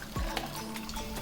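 Boiled mutton stock strains out of a pressure cooker in a soft, steady trickle, with a brief low thump near the start and faint clinks of metal.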